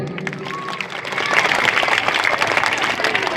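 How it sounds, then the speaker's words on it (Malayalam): Crowd applause at a gathering builds after a second from scattered claps into a dense, loud, sustained round, with a voice speaking faintly at the start. "ആദ്യം നല്ലൊരു കയ്യടി"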